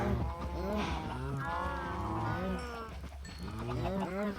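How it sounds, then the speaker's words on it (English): Several Minecraft cows moo in long, overlapping, drawn-out lows, close and steady, with a few shorter calls near the end. "Alright, cows."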